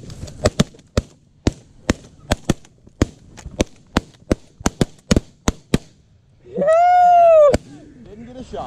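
Semi-automatic 10 gauge shotgun firing at geese during a hunt, about fifteen sharp loud blasts in quick irregular bursts, followed by a long honking goose call.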